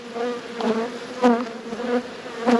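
Honey bees buzz steadily around backyard hives during an Australian beekeeping season check, a dense drone with individual insects flying close past now and then.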